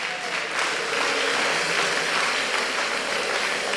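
A church congregation applauds the Lord, sustained dense clapping that fills the room loudly and evenly for several seconds without speech.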